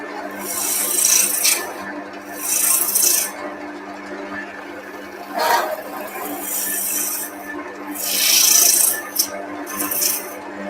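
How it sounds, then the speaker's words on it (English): Woodworking tool shaving a live-edge wood piece, producing repeated bright rasping scrapes in bursts with short pauses, close and moderately loud over a steady background hum. "We are getting some really lovely shavings off there as well."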